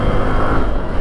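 A truck passing close on a dusty mountain road in Seraj Valley toward Thachi Valley, a loud broadband rumble of engine and tyres filling the whole brief moment.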